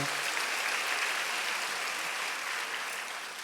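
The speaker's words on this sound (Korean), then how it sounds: "모든 우리 자녀들을 위해서 하나님께 큰 영광의 박수 올려드립니다." A church congregation applauds during a worship service, a steady dense wash of clapping that holds evenly throughout and tapers slightly at the end, with no voices over it.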